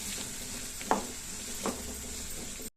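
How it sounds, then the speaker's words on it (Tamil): Spices, coconut and curry leaves sizzle steadily in a hot pan, with two brief scrapes of a spoon stirring them through the sizzle. "இது எல்லாத்தையுமே நல்லா வதக்கிக்குவோம்."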